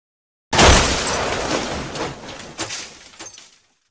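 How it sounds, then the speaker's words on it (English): Crash sound effect of something breaking apart, a sudden loud impact followed by scattered clattering debris that tails off over about three seconds, heard alone. "Crash."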